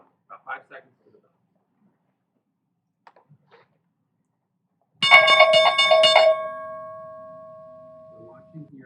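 The stock market opening bell rings loudly and suddenly after a near-silent lead-in with a little faint speech, clanging rapidly for over a second and then leaving a long ringing tone that slowly fades.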